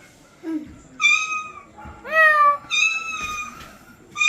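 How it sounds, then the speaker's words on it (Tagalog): A domestic cat meows several times in a Filipino home, with rising, drawn-out cries spaced across a few seconds, fairly close and clear, with faint background noise between calls. "Ano yung pusa?"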